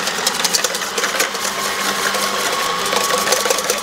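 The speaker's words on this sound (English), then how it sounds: "we're going to blend those until they're pale in color" An electric mixer whirs continuously at close range, blending eggs and sugar for a Christmas dessert, a steady dense buzz without pauses or talk.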